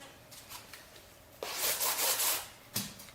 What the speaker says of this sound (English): Sanding it down helps the bonding process.